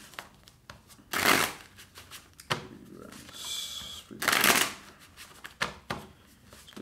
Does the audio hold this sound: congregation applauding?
no